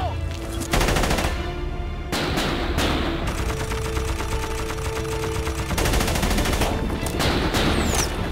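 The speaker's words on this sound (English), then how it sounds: "You stay here and provide covering fire for us." Sustained covering gunfire in a war scene. Rapid automatic bursts crackle loud and close, with brief pauses between volleys and a steady rumble underneath.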